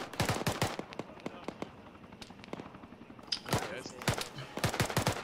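Gunfire in the military video game ArmA: rapid bursts of automatic shots and sharp single cracks, some loud and near, others more distant, in clusters at the start and toward the end with lighter shots between, over low voice-chat talk.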